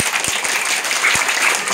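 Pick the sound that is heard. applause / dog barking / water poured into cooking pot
applause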